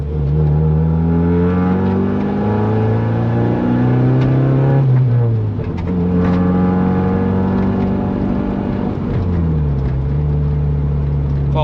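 A car engine revs up through the gears after a solid transmission mount is fitted, pitch climbing then dropping at each shift, loud and close from inside the moving car, with no talk.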